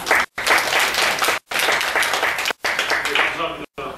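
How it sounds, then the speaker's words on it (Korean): Audience applause for a speaker at an academic lecture on the Korean Wave, loud and close clapping broken by several abrupt silent gaps. "박수로 청해 주시기 바랍니다"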